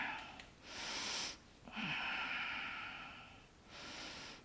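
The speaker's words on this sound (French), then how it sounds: "Inspire et expire." Slow, deliberate breaths during a standing yoga sequence, a long airy inhale and exhale repeating in two or three drawn-out cycles, close and fairly soft with brief pauses between them.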